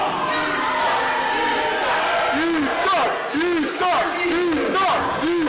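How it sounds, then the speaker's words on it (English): A wrestling crowd jeers and chants in unison at a wrestler during a match, loud, rhythmic, repeated chant phrases rising and falling over constant crowd noise. "Crowd retaliating to Taylor May's words. Apparently he sucks."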